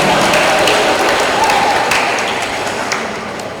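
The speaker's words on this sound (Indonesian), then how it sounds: "Ya, tepuk tangan untuk mereka." Audience clapping for dancers at a Catholic parish youth event welcoming the Sumatra Youth Day cross, a dense burst of applause that stays loud, then slowly thins and fades.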